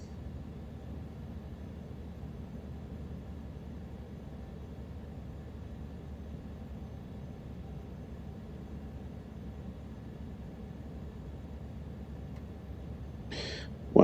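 A Caravan single-engine propeller aircraft drones steadily at a low, even level for a long stretch, a constant muffled hum with a short higher-pitched chime near the end.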